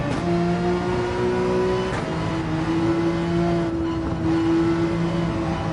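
Race car engine in Gran Turismo 7 held under steady throttle, a droning tone that dips briefly, then settles back into a sustained close hum, with no voices.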